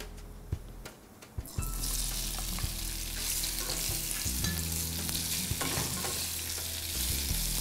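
Cumin and potatoes fry in hot oil with a loud, continuous sizzle that swells after a few sharp clatters at the start, and spoon stirring scrapes on top of it.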